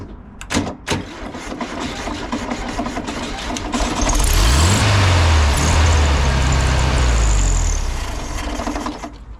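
A 1970 Volkswagen Beetle engine cranks and fires loudly for several seconds, rising and surging before fading, after a few short clicks and thumps at the start, with no talk.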